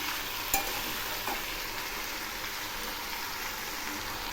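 Bottle gourd and potato pieces fry in a pan with a soft, steady sizzle, and a couple of faint knocks of a spoon stirring through them.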